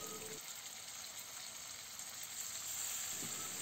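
Dried anchovies with calamansi juice fry in a pan with a steady, moderately quiet sizzle, growing a little louder toward the end as they are stirred; no talking.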